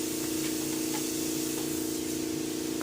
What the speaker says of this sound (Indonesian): Kita cuci bagian bodi dan tangki dulu.